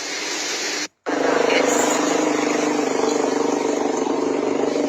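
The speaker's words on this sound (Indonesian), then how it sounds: "Sini ada motor guys." A motorcycle engine drones steadily nearby with a buzzing, pulsing tone, briefly cut to silence near the start before the running engine resumes and continues evenly.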